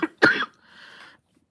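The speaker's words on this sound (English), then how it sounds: "Anyway, someday I will get rid of this cough." A single person's cough, one sharp burst followed by a shorter rasping throat sound that fades into quiet.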